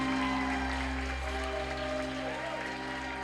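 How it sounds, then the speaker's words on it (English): At a Newport Beach wedding reception, guests clap for the couple. The applause is moderate and sits beneath a steady humming musical drone that stays throughout. "Folks, give them a big round of applause one more time."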